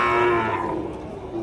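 A native deshi cow lows once in a long, loud, close moo amid a Bangladeshi village cattle market, with faint crowd murmur beneath.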